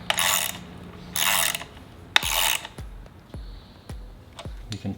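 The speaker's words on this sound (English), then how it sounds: "You can torque these idler pulleys down" Several quick rasping ratchet bursts while idler pulley bolts on a Subaru EJ207 engine are torqued, close and loud. A series of short clicks and taps follows.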